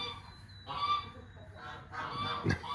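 Geese honk a few times at a farmyard with chickens nearby, moderately close, with scattered calls rising toward the end over low background noise.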